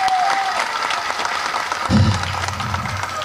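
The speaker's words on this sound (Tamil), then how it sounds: "அவனுக்கு ஒரு பலத்த கரகோஷம் கொடுங்க" Loud audience applause fills a trailer launch event hall, a dense, continuous roar of many clapping hands with cheering, building noticeably in the second half.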